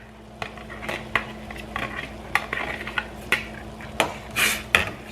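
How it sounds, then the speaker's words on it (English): A spoon stirs inside a pot on the stove while water heats for stuffed peppers, giving irregular metallic clinks and scrapes, some sharp and close, scattered over a few seconds. "Stir that up just a minute and we'll let that boil."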